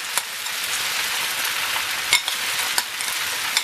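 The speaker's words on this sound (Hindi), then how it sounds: "केचप को अच्छे तरीके से मिक्स कर लेते हैं।" Ketchup stirred into chicken macaroni in a hot pan, a steady close sizzle under a few brief scraping strokes of the utensil against the pan, with no talking.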